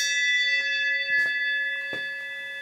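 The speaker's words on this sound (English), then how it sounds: "And until it does, I'm going to ring the bell." A bell rings during turbo and distributor work on a car, giving a sustained, ringing metallic tone with a couple of fainter strikes. It stays fairly quiet and steady throughout, with no talking.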